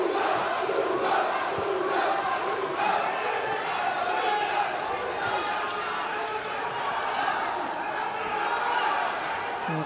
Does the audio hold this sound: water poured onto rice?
no